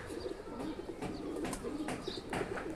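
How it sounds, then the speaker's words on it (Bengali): A tournament racing pigeon coos softly in a few low, rolling calls, faint and close against quiet background noise with occasional small chirps. "এবং এই কবুতরটা আমার"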